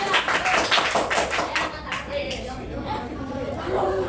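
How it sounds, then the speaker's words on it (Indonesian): Classroom applause for a group of elementary school pupils at SDN 14 Dangri, Denpasar: a burst of many small hands clapping over children's chatter, loudest at first and then thinning into scattered claps and talk. "tepuk tangan buat kelompok Sakila"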